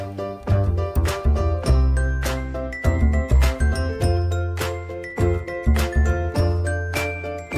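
A bright chiming jingle, a short melody of bell-like notes ringing out one after another over a low tonal backing.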